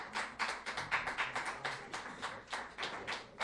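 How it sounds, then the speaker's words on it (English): Audience clapping for a candidate at a Lafayette, Louisiana town hall, a quiet, sparse patter of claps in an irregular rhythm that continues steadily without talk. "Y'all give a round of applause for Miss Melanie."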